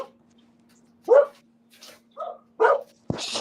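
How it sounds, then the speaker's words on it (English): Dogs barking outdoors at a home, a few separate loud barks with short gaps, ending in a burst of noise, with no talking. "Neighbors' dogs or your dogs, Outlaw?"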